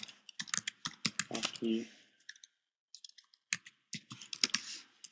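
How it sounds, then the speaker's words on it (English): Computer keyboard typing in quick, irregular bursts of crisp clicks, close and moderately loud, with a short pause midway and a brief spoken word among the keystrokes. "let me type it in"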